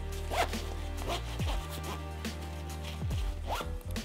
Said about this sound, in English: making sure to push the inside so it doesn't come up and get stuck in the zipper.